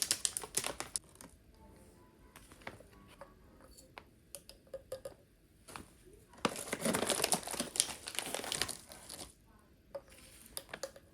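Coffee grounds scooped out of a crinkly coffee bag for a French press, with scattered soft scoops and taps and a louder burst of plastic crinkling midway, quiet and close.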